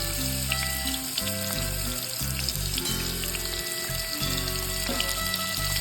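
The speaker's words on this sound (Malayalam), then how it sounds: "എണ്ണയിൽ ഇവിടെ നമ്മൾ മീൻ നന്നായിട്ട് ഇട്ടിട്ട് കൊടുക്കുക" Snakehead fish fries in hot oil with a loud, dense, continuous crackling sizzle close at hand, and no one speaks over it.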